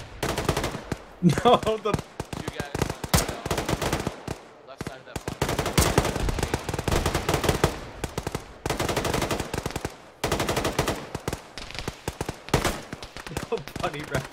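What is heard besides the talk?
machine gun fire in video game Arma (ShackTac)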